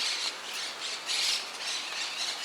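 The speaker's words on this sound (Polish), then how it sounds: "jakieś tam ptaki hałasują strasznie na górze" Birds squawk loudly in the trees above a park in Madrid on a hot August day, harsh repeated calls in several bursts, fairly close and with no talk.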